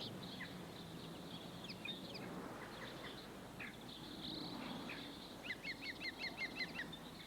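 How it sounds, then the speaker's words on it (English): Birds chirp and call across the oak woodland and rough ground of Richmond Park, faint and distant over a steady insect hum, with a quick run of repeated high notes near the end. "Here you've got birds like jackdaws and cackling green woodpeckers that you won't find in central London."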